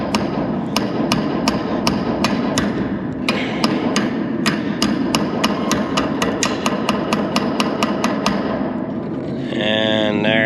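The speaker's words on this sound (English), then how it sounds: "I was able to whack it with my wrench" Wrench whacking a sticking metal bushing on farm machinery: a long run of sharp, evenly spaced metallic strikes, loud and close over a rumbling engine, ending in a brief mechanical whine.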